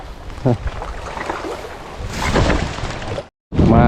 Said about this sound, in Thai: ทางด้านนอกนี่โอ้โหลมตีเข้าทางนี้ครับโอ้อย่างแรงครับ